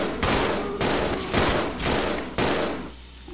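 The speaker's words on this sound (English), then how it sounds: "I shot shotgun shells" Shotgun blasts in the video game Resident Evil 0, five loud booming shots spaced roughly half a second apart, each with a short decaying tail, with no talk over them.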